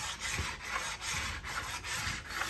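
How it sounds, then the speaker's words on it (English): A hand file is worked along the rusty, damaged steel edge of a vintage Salomon S9000 ski under light pressure, producing soft, even rasping strokes in a steady back-and-forth rhythm, close and moderately quiet. "So I'm not putting a huge amount of pressure down, letting the file do most of the work."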